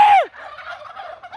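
A turkey lets out one loud, close gobble at the start, trailing into a faint rattling warble that fades over about a second.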